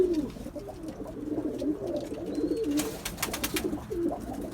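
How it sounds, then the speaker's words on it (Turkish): Pigeons coo repeatedly and close by during a night feeding at a loft, low rounded calls overlapping steadily through the whole stretch with a few brief brighter sounds near the end. "Kuşlarımız böyle arkadaşlar."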